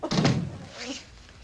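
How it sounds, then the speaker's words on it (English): A door is pushed shut in an old comedy film scene, landing as one solid thunk followed by a brief fading rattle, with no talk over it. "And shut the door."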